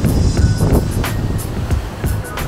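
Strong coastal wind buffeting the microphone on a rocky shore at Anse Bertrand, Guadeloupe, with rough tide; a steady loud roar with gusty low rumble and surf-like wash throughout, no speech.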